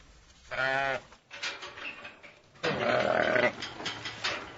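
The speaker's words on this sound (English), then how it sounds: "It's feeding time for the sheep and the cows here at Woodhane Farm" Sheep bleat loudly at feeding time on Woodhane Farm on the Devon–Somerset border, several long wavering calls close by, with farm noise between them and no talk.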